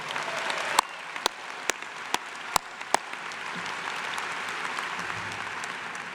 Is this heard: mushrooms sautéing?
no